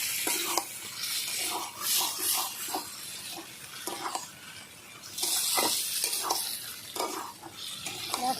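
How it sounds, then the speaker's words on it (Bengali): Chicken sautés in a pan for kosha, a close sizzle broken by repeated scraping stirs every second or so, with no talking. "মাংস দেখো ভালো করে আমি কষিয়ে নিচ্ছি"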